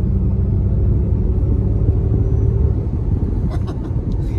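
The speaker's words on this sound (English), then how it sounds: "This is the propulsion sound on," A 2021 Ford Mustang Mach-E AWD electric SUV driving with its synthetic propulsion sound switched on, a steady loud low rumble of cabin and road noise throughout, with faint brief higher tones near the end.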